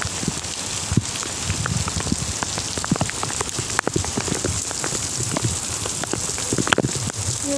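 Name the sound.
strong wind and heavy rain of Cyclone Yaas, Odisha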